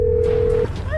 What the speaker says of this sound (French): tu entends le téléphone